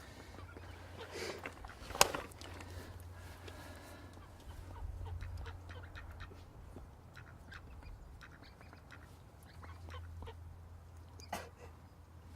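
A bold duck that has just snatched carp fishing bait quacks outdoors by the water, a few scattered quacks and clucking calls, fairly distant and soft over a low steady background rumble, without speech.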